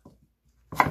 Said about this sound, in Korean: 무는 좀 도톰하게, 이게 도톰하게 이렇게 썰어 주시면 돼요